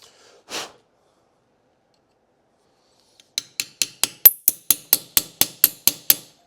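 A dull chisel is struck in a quick, regular run of about a dozen sharp, close taps after a brief soft breathy sound and a pause of near silence.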